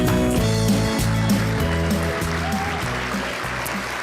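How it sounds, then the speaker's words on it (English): Audience applause at a travel and tourism achievement awards ceremony, a dense sustained clapping wash with background music or tones running underneath, gradually fading. "Another big round of applause."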